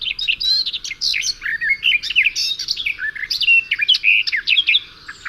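A garden warbler sings a long, rapid, bubbling warble of high chirps and trills, continuous and close, with brief pauses near the end and no voices.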